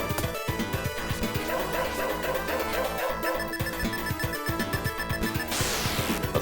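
A dog in a video game barks repeatedly while attacking, sharp rapid barks over busy game music and combat sounds, with crashing effects near the end.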